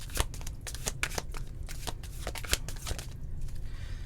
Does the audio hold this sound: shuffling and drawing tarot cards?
yes